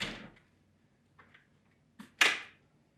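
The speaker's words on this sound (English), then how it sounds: "Let's go ahead and close the door and see how it works." A car door fitted with an Armor Concepts Door Armor Max kit swings and shuts, giving a soft knock followed by a sharper, louder slam that decays quickly, with a few faint clicks between.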